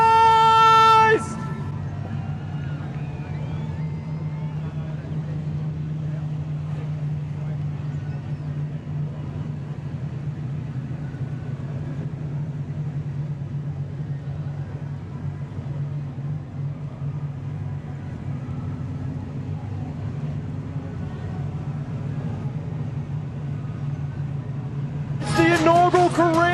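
Modified sedan race cars roar around a dirt speedway in a steady, continuous engine drone heard from a distance, with announcer talk and crowd noise near the start and end.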